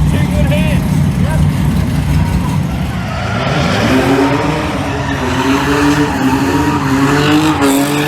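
A drift car working hard through a lap, its engine revving loud and close while tires squeal and skid continuously, with the pitch climbing in rising sweeps during the second half and voices talking underneath.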